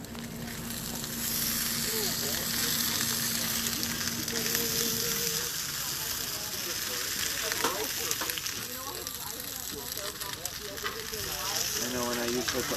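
Bok choy sears in a hot pan, its loud continuous sizzle and crackle close by throughout, with stirring clatter and brief bits of a voice speaking over it.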